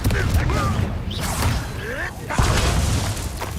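Confringo blasting spell explosions in Hogwarts Legacy, a series of loud booming bursts and crackles amid dense combat noise, with voices and spell incantations heard in the fight.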